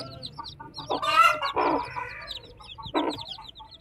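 Chicks peep in rapid, high chirps throughout, mixed with a few louder clucks from nearby chickens.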